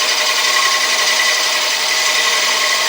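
Wood being shaped by hand on a lathe without a taper bar, a continuous bright rasping hiss of the tool against the spinning workpiece, close and steady throughout.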